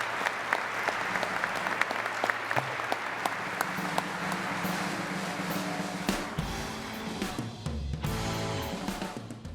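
An audience at an awards luncheon applauds steadily, a dense crackle of many hands clapping that carries on throughout and swells toward the end, with no voices over it.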